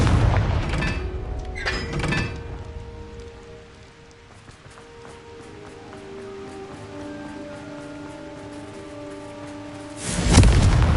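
Confringo blasting spell in a Harry Potter video game, a booming explosive burst at the start and another loud crackling blast at the end, with a soft musical score between them.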